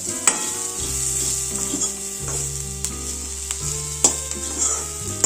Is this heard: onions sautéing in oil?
yes